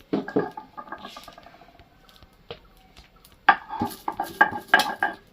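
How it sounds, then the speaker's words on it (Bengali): Roasted spices being ground by hand on a shil-nora grinding stone for mango kasundi: irregular scraping and knocking strokes, a few sharp clatters, with a quieter stretch in the middle before a busier burst of grinding. "এবারে গুঁড়ো করে নেব"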